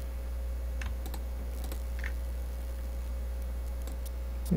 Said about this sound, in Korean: 컨트롤 시프트 H를 눌러서 다시 라인이 보이게 만들고